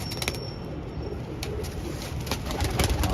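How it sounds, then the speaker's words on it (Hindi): Pigeons coo softly in the background over a dense, rumbling outdoor wash of noise, with faint scattered clicks. "बड़ा अच्छा उड़ते हैं ये कबूतर"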